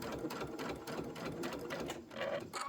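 A sewing machine stitches fabric for an appliqué snowman scene with a steady, close mechanical whir and rapid needle chatter that runs continuously with a slight dip near the end.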